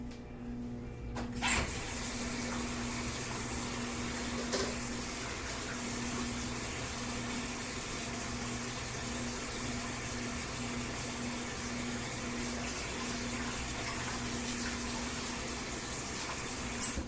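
A kitchen utensil rinsed under a running tap after scraping off egg, a steady hiss of flowing water with a low hum beneath, moderately quiet and continuous.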